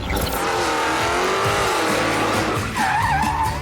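A 2017 Dodge Challenger Hellcat with 707 horsepower skids under a loud, continuous tire squeal over a roaring engine, close and sustained, with the pitch rising near the end.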